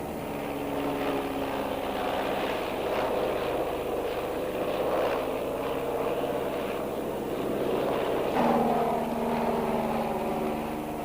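A U-10B single-engine propeller aircraft of the Vietnam War era flies past, its steady droning engine and propeller buzz filling the whole stretch, shifting slightly in pitch near the end.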